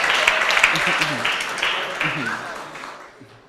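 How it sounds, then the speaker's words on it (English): Audience applause fills a closing ceremony hall at a science and technology innovation challenge, a dense broadband patter that gradually fades, with voices talking over it. "A round of applause, please, as he joins them on stage as well."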